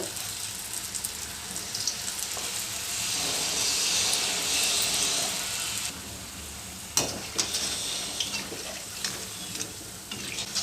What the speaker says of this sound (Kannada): ಇವಾಗ ಸಣ್ಣ ಸಣ್ಣ ಉಂಡೆಗಳಾಗಿ ಎಣ್ಣೆಯಲ್ಲಿ ಬಿಡಬೇಕು